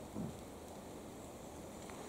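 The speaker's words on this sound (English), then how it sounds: "Raining." Steady rain falls at a flat campsite as a continuous soft, broadband hiss with no distinct drops or thunder, constant and moderately distant throughout.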